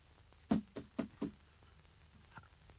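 Knocking on a door, a quick run of four firm raps followed by a softer single tap, close and clear against a quiet room.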